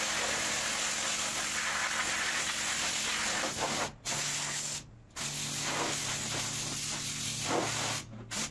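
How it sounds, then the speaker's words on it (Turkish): High-pressure spray washing a boiler at a car wash station, a loud steady hiss of water jet on metal that cuts off briefly several times, with a low engine drone underneath. "Kazanı burada güzelce yıkayacağız."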